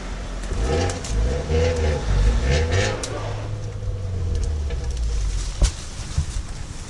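An SUV engine revs on the Old House Gap Road off-road trail, a close, loud growl that rises in pitch and then settles into a steady droning hum, with faint outdoor background.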